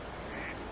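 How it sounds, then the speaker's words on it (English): Ducks quacking outdoors at Brooks Lodge in Katmai National Park, Alaska, on a cloudy, calm day; the calls blend into a steady, moderately faint outdoor wash for under a second. "Ducks."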